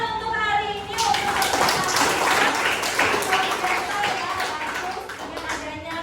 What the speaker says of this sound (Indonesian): tepuk tangan untuk hari ini untuk